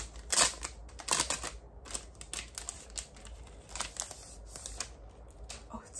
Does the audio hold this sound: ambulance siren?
no